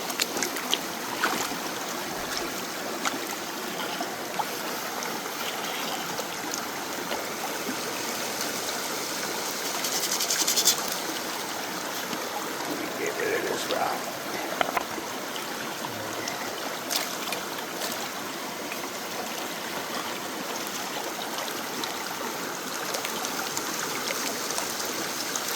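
A creek rips along steadily nearby, its broadband rushing and trickling water continuous and fairly loud throughout, with no voices.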